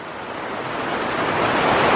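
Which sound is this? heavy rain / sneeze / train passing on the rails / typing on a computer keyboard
heavy rain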